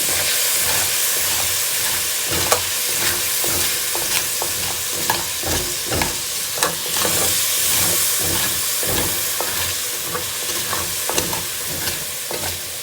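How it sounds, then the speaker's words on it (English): A stew pan being scraped to loosen browned beef bits, with repeated scrapes and stirs over a steady loud sizzle and hiss of frying, close up with no talking. "Start scraping the pan just a little, loosen up all those nice little brown bits."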